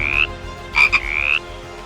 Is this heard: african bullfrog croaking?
yes